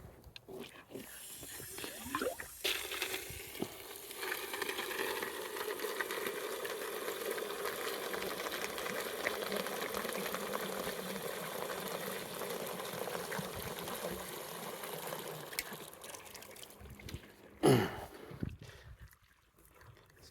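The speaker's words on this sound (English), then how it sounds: "It's just sitting there boiling alone with me not here." A pot of water boiling for cleaning beekeeping queen cell cups, giving a steady rolling bubbling hiss that runs for most of the stretch before a sharp clatter and a quieter tail.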